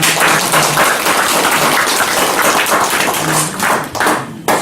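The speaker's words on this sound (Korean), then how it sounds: "박수로 안녕하시기 바랍니다." A church congregation applauds steadily during a Sunday morning service, dense clapping from many hands filling the room for several seconds before thinning out at the end.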